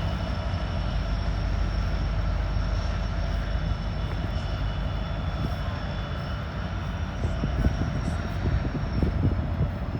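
A coal train with six locomotives, including SD70 units, creeps downhill on Horseshoe Curve toward Altoona, Pennsylvania. A continuous droning engine rumble and steady whine persist throughout, with faint clanks and a voice murmuring in the background.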